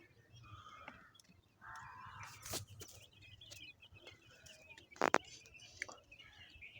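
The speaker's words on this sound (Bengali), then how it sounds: "3 দিনের কোয়েল পাখির বাচ্চা" Three-day-old quail chicks on a poultry farm chirp faintly in short high bursts scattered over a quiet background, with a couple of sharper, louder peeps near the end.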